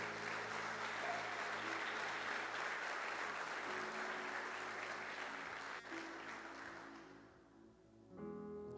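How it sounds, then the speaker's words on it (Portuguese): A church congregation claps together in sustained, dense applause for about seven seconds at a moderate, somewhat distant level, then the clapping fades and a short held musical tone follows. "Então aplauda Jesus"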